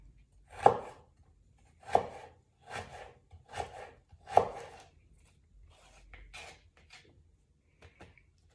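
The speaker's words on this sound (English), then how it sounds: "this piece is kind of dead, so I'm gonna chop it off" A knife chops fresh ginger on a cutting board in roughly eight distinct, close strokes spaced about a second apart, with firm thuds early and lighter taps toward the end.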